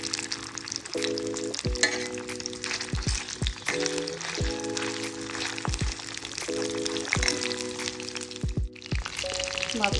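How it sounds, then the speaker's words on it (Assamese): Fish pieces for Assamese fish kalia fry in hot oil, a dense steady sizzle up close with faint intermittent tonal sounds in the background. "তেলখিনি গৰম হোৱাত আমি মাছখিনি দি দিলোঁ।"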